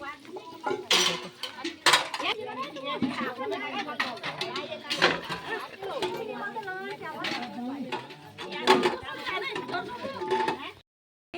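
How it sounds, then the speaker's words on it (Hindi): Metal pots, pans and dishes clatter and scrape continuously as people wash up together after a village memorial feast in India, with a steady busy rhythm of clanks and chatter in the background. "सभी लोग यहाँ पे बर्तन खाना खाने के बाद जो बर्तन थे सभी धो रहे हैं"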